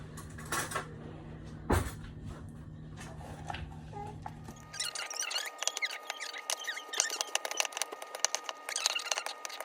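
A drawer pulled open and a spoon fetched in a kitchen, with a sharp clunk, then a run of light metallic clinks and rattles of cutlery being sorted, close by and with no voices.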